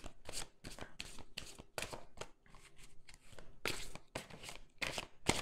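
Tarot cards are shuffled by hand in a quick run of crisp riffling bursts with short pauses between, close and clear with no voices.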